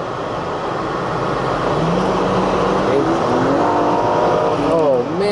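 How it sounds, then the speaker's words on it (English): A 1995 Mercedes-Benz W124 station wagon engine runs steadily and loudly up close, a constant throaty drone with rising tones near the end, with talk over it. "Oh man, that motor just hums,"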